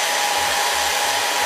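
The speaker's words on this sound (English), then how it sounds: "I'm going to spray, use a blow dryer to push it down." A blow dryer blows on a wig in a continuous loud, close hiss of rushing air, with a faint low motor hum pulsing underneath and no talking.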